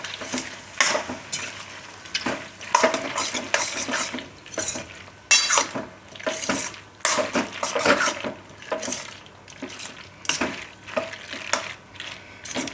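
Pasta with spinach stirred in a hot pan over a lowered gas flame, with a steady sizzle and repeated scrapes and clinks of a spoon against the pan, close and continuous.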